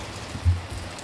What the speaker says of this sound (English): it's absolutely tipping down.